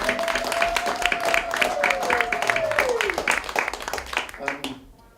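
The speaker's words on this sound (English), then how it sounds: "I'd definitely like to share a round of applause for you just now at this moment" Symposium attendees break into applause, a sustained ripple of many hands clapping at moderate volume with voices underneath and a brief whistle-like tone, fading out near the end.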